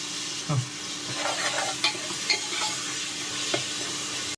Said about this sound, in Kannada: ಇಲ್ಲಿ ಎಣ್ಣೆ ಬಿಸಿ ಆದ ತಕ್ಷಣ ಇದಕ್ಕೆ ಮೆಣಸು ಮತ್ತು ಈರುಳ್ಳಿ ಹಾಕ್ಕೊಳ್ತಾ ಇದ್ದೀನಿ